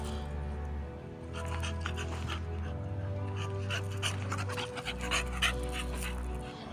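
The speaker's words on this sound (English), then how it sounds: "She's a nice, calm dog." A dog pants steadily and rhythmically close by, quick breaths repeating without pause under a low background hum.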